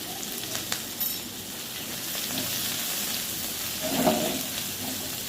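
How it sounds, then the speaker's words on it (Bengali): Prawns sizzling and frying in a pan with salt and turmeric, a steady close crackling hiss with occasional sharper pops and a brief louder spatter near the end, no talking. "আবার এই ভালো করে ভেজে নেব।"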